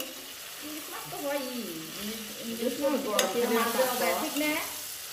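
Spiced masala being sautéed and stirred in a pan for a hilsa fish curry, a steady close sizzle with scraping stir strokes throughout and a singing voice over it.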